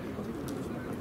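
Pigeons at an outdoor bird market give a soft, brief coo against steady background crowd noise, with faint voices nearby.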